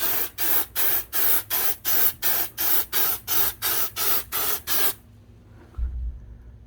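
Aerosol can laying a heavy coat of Henry Tropi-Cool sealant on a cracked Winnebago RV skylight, a series of about a dozen short, even hissing bursts in quick rhythm, close and loud, then quiet.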